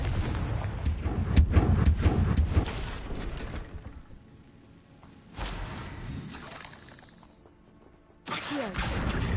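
Fiery spell blasts go off in Hogwarts Legacy on PS5, loud bursts with crackling debris and explosive booms, spaced by quieter gaps and ending on another heavy blast.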